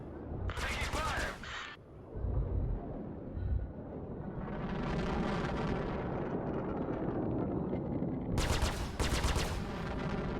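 Ship cannons fire in a Star Citizen dogfight against a Vanduul swarm. Loud rapid bursts of gunfire open and close the stretch, with a rising engine roar in between.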